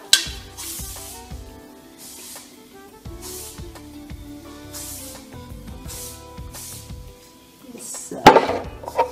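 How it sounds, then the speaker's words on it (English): Several short bursts of aerosol hairspray hiss in quick succession onto styled short hair over a quiet background of music and faint clatter. "just put some kind of spray in the hair"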